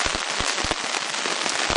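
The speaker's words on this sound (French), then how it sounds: "pluie." Rain falls steadily outdoors during a mountaineering session, a dense, close hiss with scattered sharp drop impacts that continues without pause and without talk.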